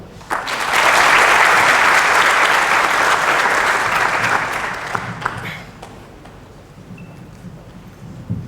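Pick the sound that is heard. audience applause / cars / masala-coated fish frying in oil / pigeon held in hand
audience applause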